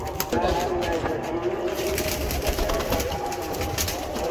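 Sialkoti pigeons coo amid a busy, noisy background, with people talking throughout.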